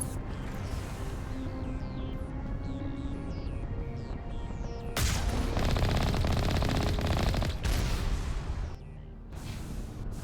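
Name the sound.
enemy turrets firing in video game Mass Effect: Legendary Edition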